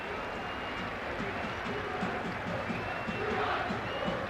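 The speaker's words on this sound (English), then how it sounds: "the bycars there chanting, cheering their appreciation for Andy Porter" Football crowd at Port Vale's stadium chanting and cheering for Andy Porter at the final whistle of his testimonial against Derby, a dense continuous roar of many voices with a commentator talking over it.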